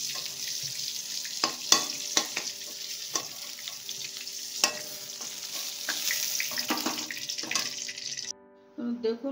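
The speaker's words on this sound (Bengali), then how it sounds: "বাকি পটলটা ঠিক এরকম করে আমি ভেজে নেব" Pointed gourd (potol) pieces frying in hot oil in a pan, a steady close sizzle with occasional stirring clatter, no talk, cutting off abruptly near the end.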